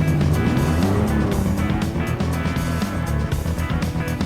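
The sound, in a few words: TVR Tuscan S sports car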